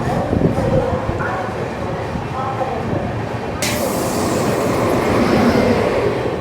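The Rajdhani Express pulls out of Asansol station, with a continuous rolling rumble and clattering wheels heard from inside the carriage and a sharp brighter wash of noise partway through. Voices are faintly present.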